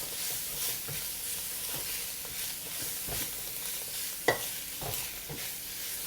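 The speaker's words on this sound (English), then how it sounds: "Mix them up well again." Pork belly stir-fried with sour pickled mustard and white pepper, a steady sizzle under repeated scraping strokes of a spatula in the wok, with one sharp metallic clink near the end and no talking.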